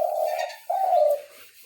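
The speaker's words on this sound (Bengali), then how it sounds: "এ কু কু কু কু করে ডাকবে" A dove coos twice close by, two soft, low, hollow calls with a short gap between them, heard on its own without any voices.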